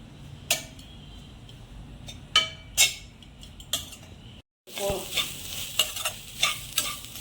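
Grated coconut sizzles quietly in a pan while a metal spoon stirs and scrapes, with sharp clinks at an irregular pace and no talking.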